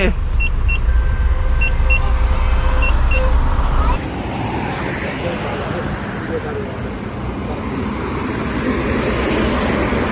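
A Mahindra Maxx pickup truck engine runs with a loud, steady rumble and broadband roar that drops slightly in level partway through, with people talking over it.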